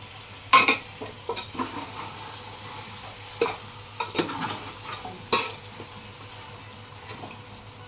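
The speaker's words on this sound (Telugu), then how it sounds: "లవంగల మసాలా అంటూ ఇవన్నీ వేసుకున్న తర్వాత మంచిగా కలుపుకోవాలి" Spiced fish masala with cloves stirred in a pan, soft frying sizzle under a run of scraping stirs and light utensil knocks, close and uneven in rhythm.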